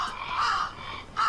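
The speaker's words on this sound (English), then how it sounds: "Hey, crows." Crows in The Last Door video game give two hoarse caws close by, separated by a short pause.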